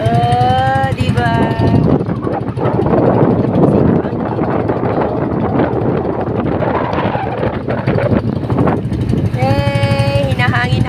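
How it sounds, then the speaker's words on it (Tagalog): Strong seaside wind at Dagupan roars and buffets the microphone continuously and loudly, with voices talking over it at the start and end. "Malakas ang hangin."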